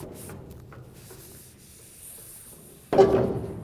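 A gear motor gearbox slides out of a SaltDogg electric SST auger with steady metal-on-metal scraping and rubbing, which ends in a louder grinding scrape at the close, with no voices.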